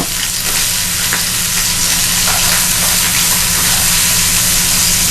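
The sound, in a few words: scallops searing in olive oil in a pan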